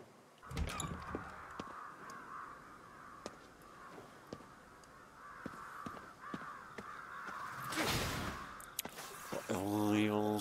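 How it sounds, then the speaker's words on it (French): Excited crows in the video game Ghostwire Tokyo caw repeatedly, scattered harsh calls at medium distance, faint at first, with a voice talking over them and a louder burst near the end. "Ils vont se calmer les corbeaux là, ils sont excités."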